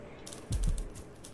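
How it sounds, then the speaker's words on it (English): Keyboard typing from inside a room in the video game Dishonored 2, a soft run of light clicks heard faintly in the background alongside a low thud. "I can hear typing, so there must be someone in here."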